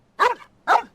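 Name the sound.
dog barking in Genshin Impact video game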